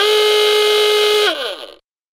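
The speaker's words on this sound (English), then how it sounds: "Tone 1 is the industrial hooter." A Hootronic industrial hooter alarm sounds one loud, steady, buzzy horn-like tone, then slides downward in pitch as it winds off and cuts out, heard alone.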